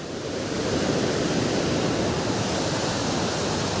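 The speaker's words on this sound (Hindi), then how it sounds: "जो आपको दिख रहा है ना पानी यहाँ से जो नीचे की तरफ जा रहा है" Rainwater pours down over a check dam after heavy rain, a steady broadband rush like a small waterfall, loud and continuous throughout with no voices.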